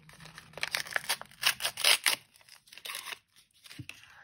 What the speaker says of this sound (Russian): Открываем следующий пакетик.